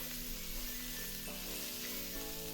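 Snake gourd poriyal with onion and masala being stirred in a pan, giving a steady, even sizzle that fills the whole stretch with no talking.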